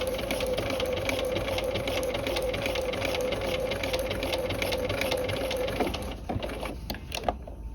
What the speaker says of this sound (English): you're going to just merge the stitching